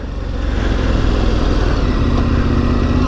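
A KTM 1090 Adventure R engine pulling steadily while ridden off-road on soft ground, a loud continuous drone that holds even for a few seconds.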